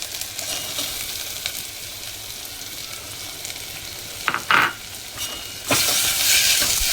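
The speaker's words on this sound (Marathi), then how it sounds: "आता आपण ह्यामध्ये टाकत आहोत हा कांदा" Onion fries in a pan and is stirred, a close, loud sizzle with scraping stirs and a few clinks of the utensil against the pan, and no speech.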